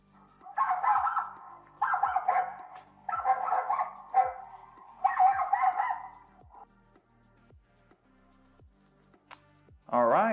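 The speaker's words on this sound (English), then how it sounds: "let's turn those angry dog sounds again" Angry dog barking played back from a recording through a small speaker, five loud bursts of repeated barks in an even rhythm, then quiet with a brief sharp sound at the end.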